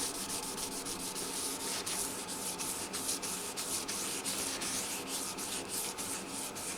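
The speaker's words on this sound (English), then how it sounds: "And then I do Trizact pad. It's kind of like using 3000 grit." A Trizact abrasive pad rubs continuously over the finish of a 1997 Gibson Dove acoustic guitar body, producing a steady, soft, even sanding hiss with faint repeated strokes.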